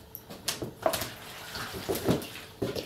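Water pouring into a bucket beside a wood stove, irregular splashing bursts and gurgles at close range, moderately quiet, with no talking.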